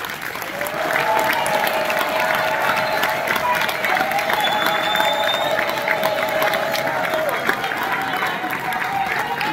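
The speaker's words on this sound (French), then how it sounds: "que vous applaudissiez pour notre candidat." Sustained applause from an audience at a candidate's campaign rally in Brussels, steady dense clapping with crowd noise and a few cheers, filling the whole stretch.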